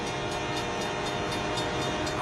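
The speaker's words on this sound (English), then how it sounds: "This driver can't think he can beat a train." A train rolls through a rail crossing, a dense, steady rumble of wheels and carriages with rhythmic clatter running continuously and close throughout.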